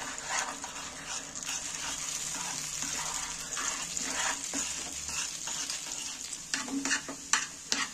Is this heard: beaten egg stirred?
yes